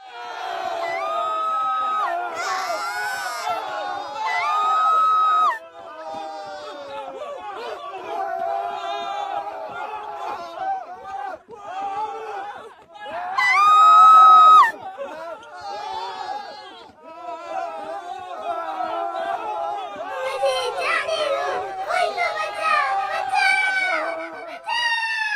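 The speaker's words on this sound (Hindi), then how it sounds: "लोगों की चीख पुकार" Crowd of people screaming, wailing and shouting in a dense, overlapping din during a night attack on the besieged city of Mathura, with high shrieks rising above the clamor at several points throughout.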